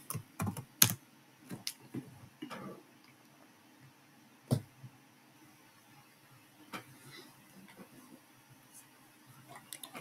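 Typing a question on a computer keyboard. Sparse, quiet key clicks arrive in short irregular clusters with long pauses between them, nearby and alone.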